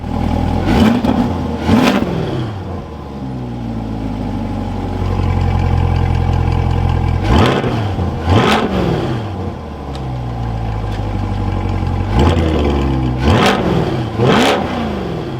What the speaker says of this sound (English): So with some quick baby revs, this thing has a really meaty sound.